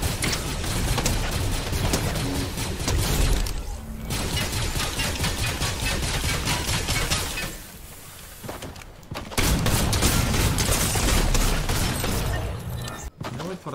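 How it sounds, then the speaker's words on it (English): Blaster gunfire crackles almost nonstop in a Star Wars-themed video game, dense rapid shots with game effects and a few brief lulls, while a player talks over it. "try and get some more blaster damage"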